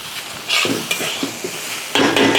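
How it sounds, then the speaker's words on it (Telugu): Double egg noodles, street-cart style, stirred and tossed in a hot pan: a run of scraping, clattering strokes over a soft sizzle, with louder bursts at the start and end. "దీన్ని కూడా ఈ విధంగా బాగా కలిపేసుకోవాలి"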